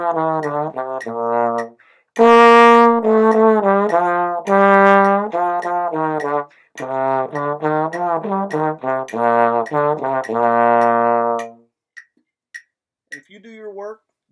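A trombone plays a sustained melodic line of clear, sonorous notes at a steady moderate tempo of 104 beats per minute, close and loud, with brief gaps between phrases and a quiet tail at the end.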